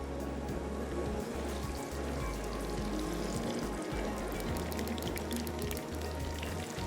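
Chicken fries in very hot oil with a continuous, quiet bubbling sizzle that stays even throughout, without any voices.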